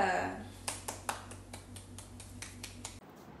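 A classroom greets a student group before its presentation with a quiet round of sparse clapping, roughly ten distinct claps over a low hum, stopping abruptly.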